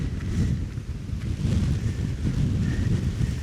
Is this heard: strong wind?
yes